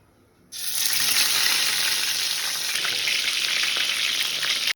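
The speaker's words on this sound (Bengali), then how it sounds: "বন্ধুরা তেলটা গরম হয়ে গেছে। তো এবারে বেগুনগুলো দিয়ে দেবো।" Thick, large eggplant slices hit hot oil: after a brief quiet moment a loud, dense sizzle bursts up and holds steady and close for several seconds.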